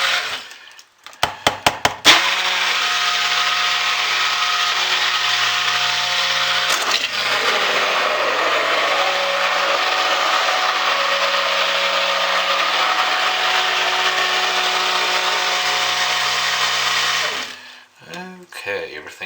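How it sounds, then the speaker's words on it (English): A stick blender whirs steadily and loudly for about fifteen seconds, mixing goat milk into soap-making oils with no lye added yet, after a few brief clicks and bumps at the start. "the stick blender head got exposed and put some air bubbles into it"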